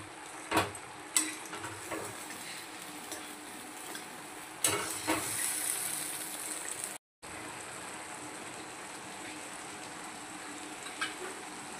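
Mutton keema cooked with yogurt bubbles and sizzles steadily in a pan, with a few louder stirring clatters and a short gap partway through, close and moderately loud with no talk.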